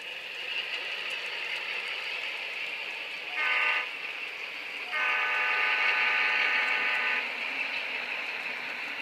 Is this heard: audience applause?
no